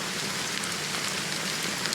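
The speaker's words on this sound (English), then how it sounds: "how long has this rain been going on for?" Steady rain falls across a surface, a dense even hiss of drops filling the whole stretch with no voices.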